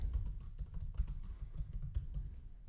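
Close computer keyboard typing as song lyrics are entered into worship presentation software, a quick irregular patter of key clicks with no talking.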